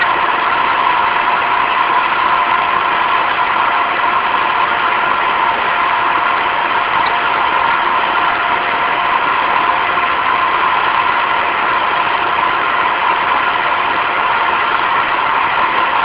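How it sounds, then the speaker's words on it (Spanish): A motor runs steadily during a dry run of a 6000 GPD automated system, a loud, continuous mechanical hum and whir that stays level throughout with no break. "Gumana na yung motor."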